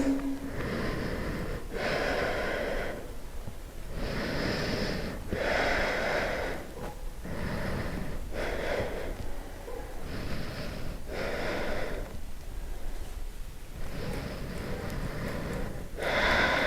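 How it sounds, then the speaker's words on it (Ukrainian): Deep, rhythmic breaths drawn in and out through the nose during a yoga session, each inhale and exhale clearly audible, close and alone, repeating in an even cycle of roughly seven breaths. "Дихаємо глибоко через ніс."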